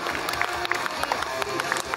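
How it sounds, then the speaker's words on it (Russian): Audience at a bodybuilding contest claps and cheers after a posing round, a dense burst of crowd applause with a busy murmur of voices mixed in throughout. "Ваши аплодисменты."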